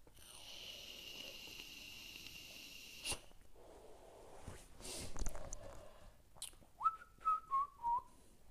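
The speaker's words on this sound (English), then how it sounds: "Don't whistle on live stream" A person whistles a short tune of several rising and falling notes near the end, clear and close, following a stretch of hiss, clicks and faint background noise.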